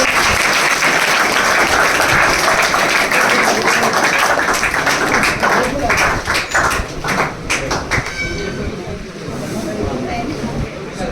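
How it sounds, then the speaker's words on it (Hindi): An audience at a student honoring ceremony claps loudly and steadily, the applause thinning into scattered claps as a voice speaks over it toward the end. "ताली बजा दो भाई जोर से।"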